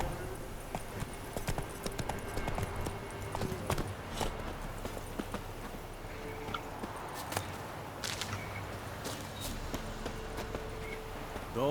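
A horse gallops in The Witcher 3 video game, its hooves clip-clopping in a quick, steady rhythm, close and constant, with occasional sharp clicks layered over the hoofbeats.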